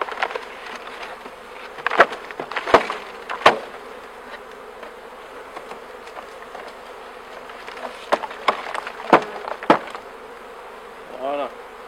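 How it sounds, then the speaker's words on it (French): Buzzing of a honeybee colony as a five-frame nucleus hive is opened in spring, a steady insect drone with sharp knocks and clicks from handling the box, and no talking. "on va ouvrir tout de suite l'ensemble avant que les abeilles ne nous sautent dessus"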